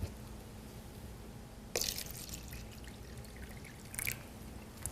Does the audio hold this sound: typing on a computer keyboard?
no